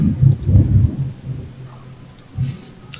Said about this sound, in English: There's a large thunderstorm where I am.